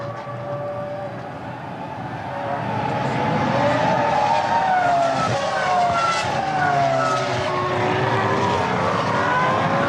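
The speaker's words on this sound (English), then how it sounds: "that car just ahead of him is Nicholas Chiesa." Formula One race cars at the 2003 German Grand Prix, high engine whines sweeping up and down in pitch as several cars pass, loud and continuous, growing louder after the first couple of seconds.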